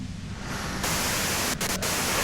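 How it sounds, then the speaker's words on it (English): Loud, dense white noise static in the Disco Elysium video game, hissing evenly and swelling to full intensity after a moment, with a couple of brief dips, heard alone with no talking. "you can do it through the white noise."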